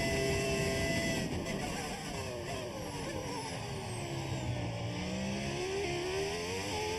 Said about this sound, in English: Alright, the engine sounds like this. It's an audio mod.